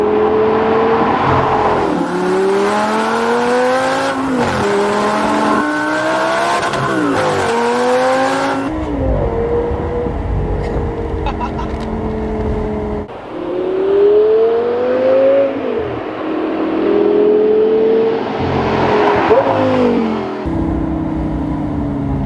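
Audi R8 GT V10 with a Milltek race exhaust accelerating hard, loud rising engine howls broken by quick paddle-shift drops in pitch, several gear changes in a row, heard close and alone.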